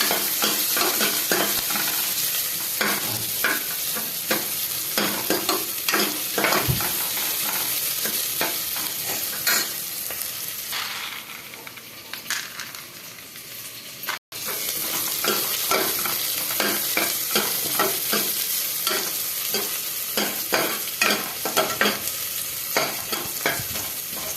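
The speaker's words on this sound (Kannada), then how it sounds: "ಮೀಡಿಯಮ್ ಸೈಜ್ ಈರುಳ್ಳಿ, ಬ್ರೌನ್ ಕಲರ್ ಬರೋವರೆಗೂ ಹುರ್ಕೊಳ್ಳುತ್ತೆ" Medium-size onions fry in hot oil for a home pulao, a steady sizzle broken by frequent scraping stirs of the spoon against the pan, close and continuous with one brief gap.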